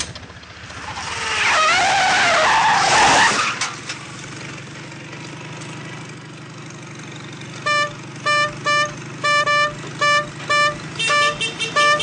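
A car horn honks in a rapid series of short, loud toots that repeat in irregular bursts. Earlier, a roaring engine and screeching tires are heard up close.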